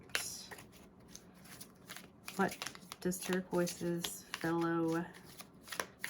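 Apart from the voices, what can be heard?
shuffling a new deck of cards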